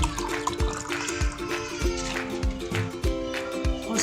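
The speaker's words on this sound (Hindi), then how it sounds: "ठंडा पानी शामिल किया" Cold water poured into falsa (phalsa) sharbat in a kitchen, a steady close splashing pour with a few brief gurgling bursts, heard alone without talk.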